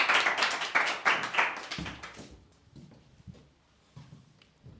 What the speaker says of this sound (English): Guys, invite him with your huge round of applause.